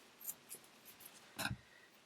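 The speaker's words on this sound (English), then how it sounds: "I'm going to get my scissors, I'm going to cut my" Scissors snip through jersey T-shirt yarn after a crocheted bowl is finished: a few quiet, close blade clicks, then one firmer cut.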